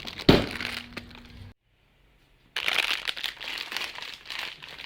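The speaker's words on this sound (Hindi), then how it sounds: "ये देखो, पन्नी की आवाज़ सुन गई" Plastic wrapper crinkling close by, crackly rustling bursts with a sharp snap at the start, a brief silent gap, then more continuous crinkling.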